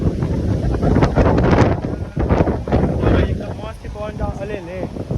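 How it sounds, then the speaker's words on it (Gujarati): Gusty wind during a rainstorm buffets the microphone in loud rushes while a person speaks over it. "અરે રે પવન તો જો"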